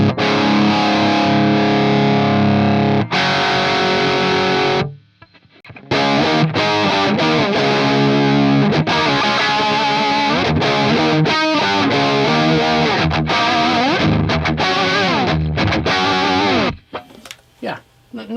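Heavily distorted electric guitar through an early Metaltronix preamp, loud sustained chords and riffing with short breaks, ringing alone.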